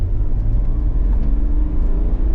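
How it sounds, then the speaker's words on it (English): An INEOS Grenadier's engine runs smoothly while driving in drive, a steady low rumble with road noise, continuous and fairly loud, no talking. "It's a very, very smooth engine."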